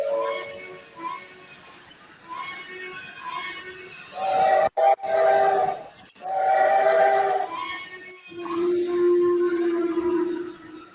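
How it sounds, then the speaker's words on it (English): Decapod creatures in a video game let out eerie, drawn-out whistling tones in several swelling bursts, mixed with a speaking voice. "Try to find the one that has the good whistle."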